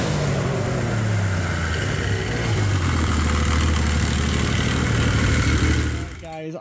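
A Yamaha triple engine fitted in a Polaris RZR XP idles steadily and close by, a smooth low hum with a rising pitch near the middle before it tapers off and cuts out at the end.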